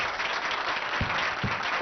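Students clapping together at a school event, a steady wash of applause from a group with no voices standing out.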